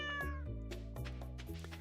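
A house cat meows close by in a few short, tonal calls, with steady soft music playing underneath.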